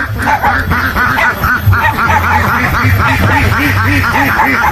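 Ducks quack in a rapid, steady stream of calls, close and loud, with a low hum running underneath throughout.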